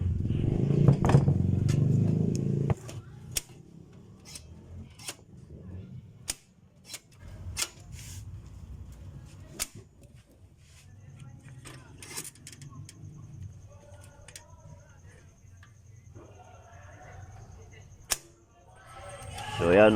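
Gentle hammering on a butane gas stove part being tightened during repair, a series of light, separate taps spaced a second or two apart, with a louder rumble of handling at the start.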